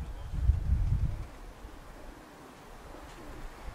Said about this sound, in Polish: czyli to pierwsze gołębie tutaj mamy